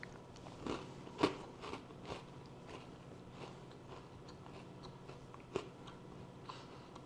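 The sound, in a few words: crunch of biting and chewing a homemade ginger biscuit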